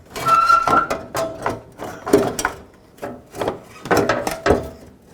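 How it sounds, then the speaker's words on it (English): Front bumper of a 2007-14 Chevy Silverado being lifted and lined up, giving close scraping, knocking and rubbing sounds in a few irregular bursts with short pauses between them. "Bring your bumper up and over. Line it up."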